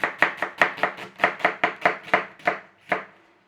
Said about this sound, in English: Don't rush, you know, just slice your onions.